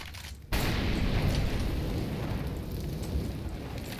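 An incendiary grenade in CS:GO bursts and keeps burning as a dense, steady roaring hiss that holds loud for several seconds, with no voices.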